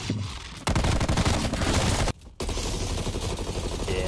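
Rapid gunfire in a first-person shooter game, bursts of loud, dense automatic shots filling nearly the whole stretch with a brief gap before the firing resumes.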